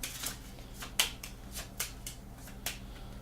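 Cards from the This War of Mine board game are shuffled by hand in a quiet room, giving a quick series of crisp riffling snaps and flicks, about eight sharp bursts close up with no talking.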